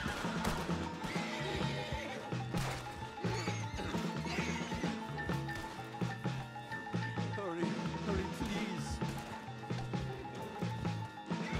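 Horses neigh and whinny amid clopping hooves and busy game action in Red Dead Redemption II, with a steady backdrop of layered noise and music; the whinnies are repeated but partly buried in the mix.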